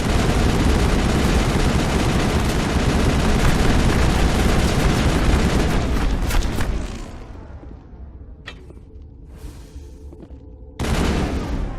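Sustained heavy gunfire during a lab battle in Mass Effect, dense and loud for several seconds, then thinning to scattered distant shots before a final loud burst returns.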